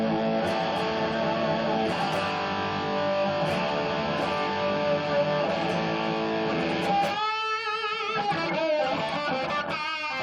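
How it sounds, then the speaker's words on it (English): Bright electric guitar chords through a treble booster turned all the way up ring out loud and sustained, then break into sharper, choppy strums with gaps near the end. "main guitar sound is treble booster all the way up"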